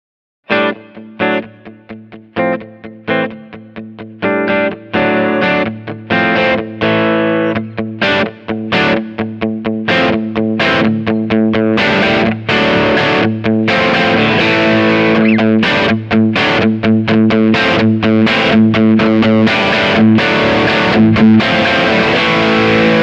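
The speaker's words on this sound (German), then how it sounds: "Nun könnt ihr mit dem Expression-Pedal den Zergrad zwischen Basis und Morph-Sound regeln." Loud distorted electric guitar chords from a Kemper Profiler, an expression pedal morphing between base and morph sounds, starting with choppy stabs and growing into a dense, sustained wall of saturated tone.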